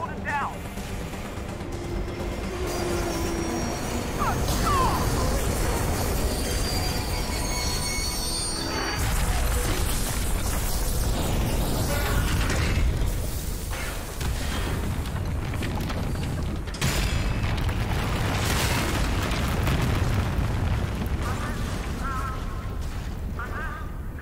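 Train crashing to a halt and exploding in the video game Half-Life: Alyx, a sustained loud rumble of booms, grinding metal and debris lasting over twenty seconds, with bursts around the midpoint and people speaking over it.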